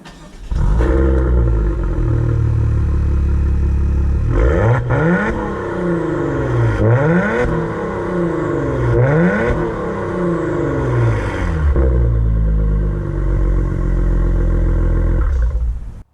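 A 2022 Maserati Levante F Tributo SUV with its Ferrari-derived engine is revved hard several times, climbing and falling in repeated loud rises between idle stretches, close and with no talk.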